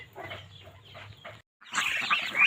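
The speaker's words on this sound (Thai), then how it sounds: "นี่เป็ดไก่พี่น้องเป็ดไก่" Farmyard ducks and chickens clucking close by, first a low murmuring cluck, then a brief gap, then a louder, busier burst of clucks and squawks.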